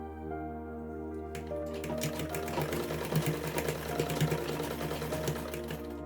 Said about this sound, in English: I'll backstitch on it severally, so that by the time I pull the string, it will not pull off.